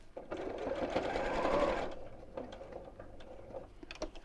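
A sewing machine stitches a simple fabric wallet, whirring in a rising and falling burst and then settling into lighter ticking and clicking mechanical sounds at close range.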